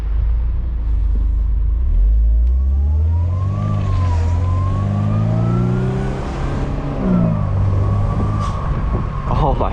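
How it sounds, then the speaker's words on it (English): A 1998 Mercedes-Benz SLK 230 accelerating at quarter throttle on a drive, its engine note climbing in pitch through a steady rising pull with a deep rumble underneath. "That was like a quarter throttle"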